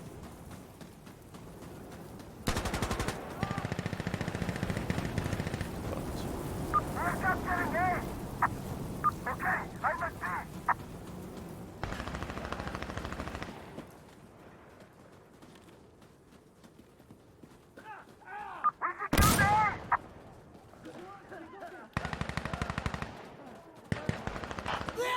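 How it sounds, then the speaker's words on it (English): Gunfire in a multiplayer shooter video game, including a shotgun, with scattered bursts of shots, footsteps and other game noises mixed with quieter stretches. "Someone's using a shotgun."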